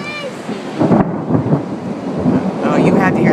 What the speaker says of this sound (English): Oh, you had to hear that thunder.